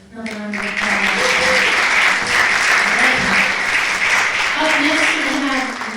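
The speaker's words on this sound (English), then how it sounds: "Another round of applause." Audience at a poetry showcase applauding loudly and continuously after a reading, with a voice speaking over the clapping at the start and again near the end.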